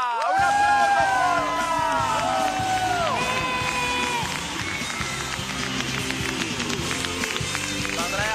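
A youth festival crowd applauds and cheers as a guest is welcomed on stage, with continuous clapping, shouts and whoops over a rhythmic music bed, loud and sustained.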